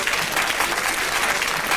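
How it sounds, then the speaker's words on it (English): Steady audience applause from a studio crowd at a live Sooty variety show, a dense, even patter of many hands clapping continuously without pause. "Give him a round of applause."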